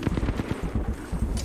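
Rapid, rhythmic bursts of gunfire in Apex Legends pound out in quick succession for about a second and a half, loud and close, with no talk.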